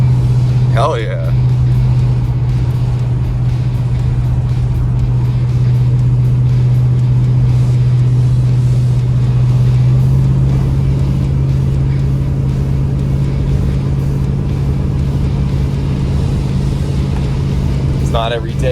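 A 1966 Buick Wildcat weighing about 4,300 pounds, fitted with a Super Turbine 400 transmission, drives in third gear; its steady, loud engine and road roar fill the cabin throughout, with a voice briefly audible.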